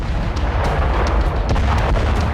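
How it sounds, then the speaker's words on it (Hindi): Russian artillery shell blast setting off tons of ammunition in a forest weapons depot: a sustained, loud rumbling roar of detonations with repeated sharp cracks and pops layered through the continuous booming. "पहले रूसी आर्टिलरी के शेल का धमाका हुआ और पहली चिंगारी के साथ फट पड़ा कई टन बारूद।"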